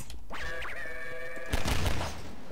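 An explosion in Garry's Mod hits with a loud crashing burst of noise, set against a tonal, whining game sound that fades as the blast takes over.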